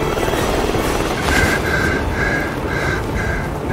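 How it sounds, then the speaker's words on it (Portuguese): A helicopter lifts off in the Dubai mission of the video game Hitman 3, a dense, steady engine roar with a rhythmic pulsing beat repeating through the second half. "o helicóptero da Alex acabou de levantar"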